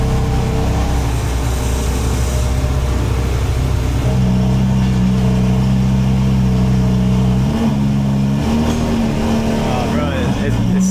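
A Porsche GT4 RS fitted with a full titanium valvetronic exhaust idles and then revs close by, its engine note climbing and holding in stepped blips, with people talking over it.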